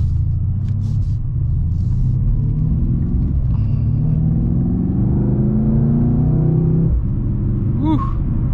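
A 2020 Mercedes-AMG C 63 S sedan with its 4.0L V8 accelerates hard in Sport Plus mode, a loud, deep engine rumble heard from inside that rises steadily in pitch before a brief dip near the end.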